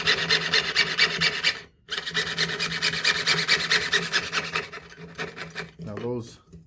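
A hand saw rasps steadily back and forth through wood in close, loud, continuous strokes. It pauses briefly partway through and trails off at the end, where a voice speaks.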